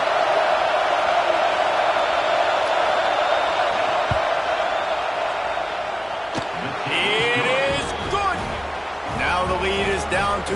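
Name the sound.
stadium crowd noise during a field goal attempt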